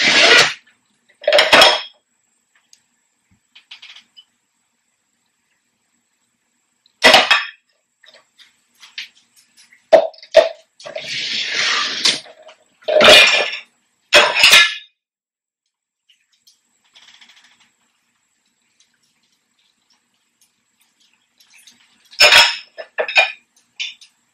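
Dishes and cutlery clatter and clink in scattered bursts as a dishwasher is unloaded after a cycle with a Finish Max In 1 PowerBall detergent, with sharp close clangs separated by long quiet gaps and a brief rattling stretch midway.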